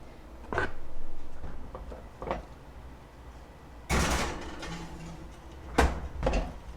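An oven door opens and shuts as a breakfast casserole goes in to bake at 375, giving several close clunks and thuds, a louder scraping rattle midway and a sharp bang near the end, with no talk.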